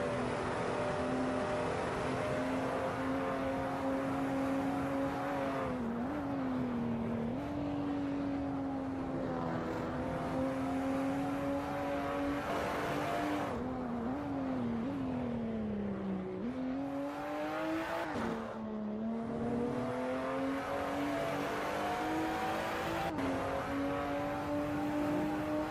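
Race car engines in a Silverstone sim racing game drone loudly and continuously, their pitch dipping and climbing with gear shifts and braking through the corners. No one speaks.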